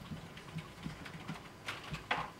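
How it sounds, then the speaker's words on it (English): Faint keystrokes on a computer keyboard in a university computer lab, sounding as a few soft, irregular clicks spread across a couple of seconds, with no voices. "you type in path what I'm typing"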